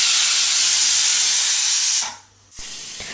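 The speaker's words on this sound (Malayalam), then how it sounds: "നമ്മുടെ ബീഫ് അങ്ങനെ കുക്കറിലിരുന്ന് വിസിലടിച്ചുകൊണ്ടേയിരിക്കുകയാണ്" A pressure cooker whistling on the stove while beef cooks inside, a loud, steady, close steam hiss that cuts off abruptly, then a softer hiss after a short pause.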